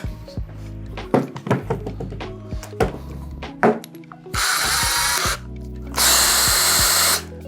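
A power drill starting holes in the sole of a golf shoe: scattered knocks and handling thuds, then two loud sustained whirring bursts of the drill running, close and alone without talk.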